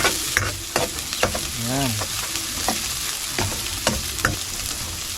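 Garlic frying in a pan gives a close, steady sizzle broken by sharp clicks and scrapes of a utensil stirring, with a single short spoken word partway through.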